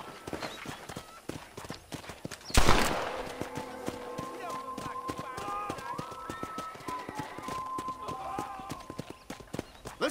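Horse hooves clip-clopping at a steady riding gait in the Western video game Red Dead Redemption, sounding close and continuous over game ambience and background music, with a loud burst partway through.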